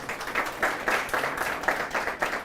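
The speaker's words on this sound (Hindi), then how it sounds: "रोहित और राहुल के लिए तालियां बजाइए आप।" A classroom of students claps for two classmates in a general science coaching class, with the applause rising and falling in several uneven rounds of hand claps at moderate volume.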